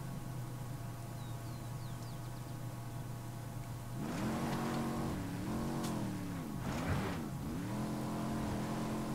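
A truck in the video game Ghost Recon Wildlands idles steadily, then its engine revs up around the midpoint and pulls away, pitch rising and dipping through gear changes, fairly close and heard without talk.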